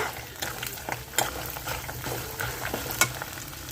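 Urad dal and chana dal frying in hot oil with mustard seeds for a tempering, a steady close sizzle punctuated by scattered pops and the scrape of a stirring spoon.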